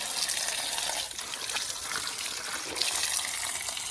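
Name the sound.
spring water pouring continuously from a PVC pipe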